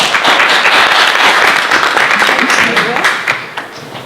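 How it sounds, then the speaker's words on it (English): An audience claps for Christina and Charlie at a first responder storytelling event, a dense, lively round of applause that carries for most of the clip and tapers off at the close, with voices mixed in. "a round of applause for Christina and Charlie"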